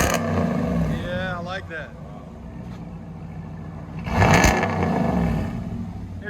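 A RAM 1500 pickup with a 5.7L Hemi V8 and Borla ATAK exhaust rumbles steadily nearby, then swells into a short rev before settling back, with people talking over it.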